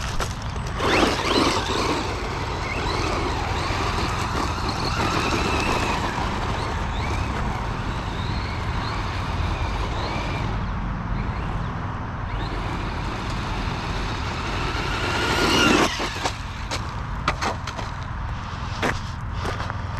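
FTX Crossbow 1/10 brushless RC truggy truck driving, its motor whining while the tyres scrabble and rattle over the ground in uneven bursts, with a few sharp knocks and clatters.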